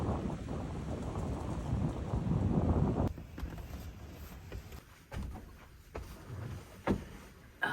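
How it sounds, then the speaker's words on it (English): Gusty wind buffets the microphone at a Michigan campsite, a loud steady rush for the first few seconds that then eases into softer, intermittent gusts with faint thuds. "it's getting a little windy"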